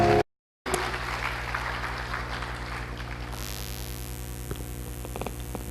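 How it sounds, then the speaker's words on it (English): Audience applause at the IYS-2012 opening ceremony greets guest speaker Kartik Vyas, a dense continuous wash of clapping after a brief dropout, under a steady electrical hum. "Please welcome Kartik Vyas with a big round of applause."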